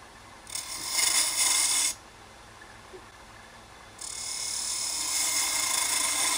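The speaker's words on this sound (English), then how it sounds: "we're going to use a 3/8 inch spindle gouge and we're going to cut the end off" A 3/8 inch spindle gouge cuts a partial cove to take the end off wood on a lathe, giving a close, steady hissing scrape in two sustained passes over the lathe's low running hum.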